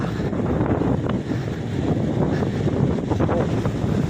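Strong, cold wind roars into the microphone while cycling along the shore of Bang Phra bay. The rumble is dense and unbroken, with no voices.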